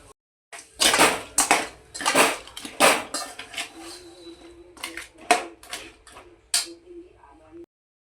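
Crab claws tumble into a cooking pot for a spicy Malvani crab curry, with a run of sharp metallic clatters and knocks against the pot, loud and close.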